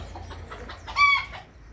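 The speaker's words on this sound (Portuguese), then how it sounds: "Olha que galo mais lindo" A rooster clucks on a farm, a short, near, bright call rising out of soft background noise, with no one talking.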